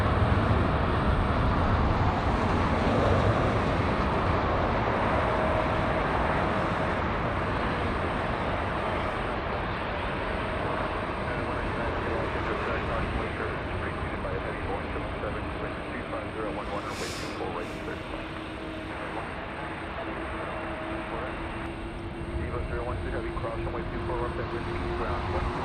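An EVA Air airliner touches down at LAX with a steady, broad engine and rollout roar that slowly fades, and someone talks over it throughout.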